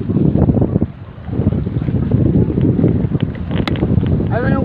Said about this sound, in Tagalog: Tinatangay ako ng hangin,